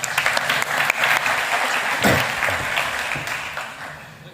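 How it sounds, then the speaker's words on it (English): An audience claps loudly and steadily at a talk on B2B SaaS pricing, a dense wash of applause that swells slightly midway and then gradually fades. "One more round of applause for Hazjier, please."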